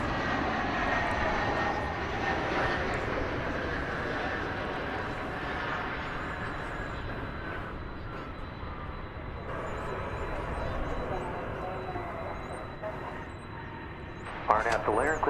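An American Airlines airliner takes off from runway 18 Left at DFW Airport, its jet engines a sustained, steady roar that swells and fades slightly over the clip, with faint voices underneath.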